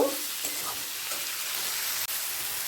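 Chopped tomato and onion frying together in a hot pan for egg tadka, a steady loud sizzle with occasional scraping stirs and one brief clatter near the end.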